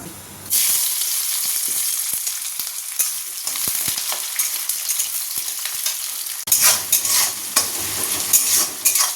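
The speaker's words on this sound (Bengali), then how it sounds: "পেঁয়াজটা হালকা ভাজা হয়েছে" Onions sizzle in hot oil in a pressure cooker while being stirred, giving a loud, continuous hissing fry with scraping stirring strokes throughout, growing louder and more crackly toward the end, and no talking over it.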